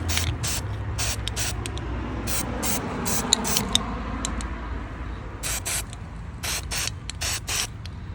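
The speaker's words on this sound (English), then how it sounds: "Spray paint." Testors flat white spray paint hisses from a can in repeated short bursts onto scale-model warehouse door parts, close and loud, each blast a few fractions of a second long with brief pauses between.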